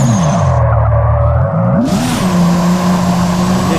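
A drift car in the video game Drift21 roars loudly at high revs, its engine note dipping then climbing again while a sustained tire squeal rides on top, close and continuous throughout.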